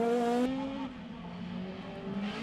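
Rallycross cars racing in Belgium, a Peugeot 208 among them, with one car sliding sideways: a loud engine drone that drops and shifts in pitch, then climbs again.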